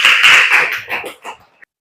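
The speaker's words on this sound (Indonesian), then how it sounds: "tepuk tangan buat semua dulu" A classroom of students clapping their hands together during a religion lesson, a short burst of brisk applause that thins out and fades within two seconds.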